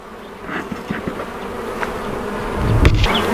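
Honeybees buzz steadily around an open beehive during an inspection with a smoker, a close, continuous insect drone with a few soft knocks and a louder swell near the end.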